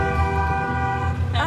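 Sustained blaring car horns from a wedding procession heading to a church in Crete, loud and close, with a voice over the horns.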